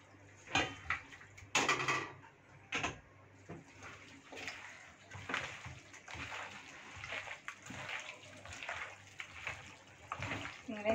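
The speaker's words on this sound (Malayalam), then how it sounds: "തൈര് ഇതിലേക്ക് നമുക്ക് മട്ടനും കൂടി ഇട്ടിട്ട് നന്നായിട്ട് മിക്സ് ചെയ്യാം" Mutton being mixed into yogurt in a bowl: soft wet squelches and sloshing with occasional clinks of a utensil against the bowl, close and fairly quiet.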